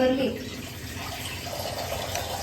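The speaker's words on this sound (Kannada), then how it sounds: "ಈಗ ಸ್ವಲ್ಪ ನೀರ್ ಬಿಡ್ತೈತೆ" Water runs steadily into a pot of fish sambar being cooked in a kitchen, a soft continuous pour with a voice briefly heard at the start.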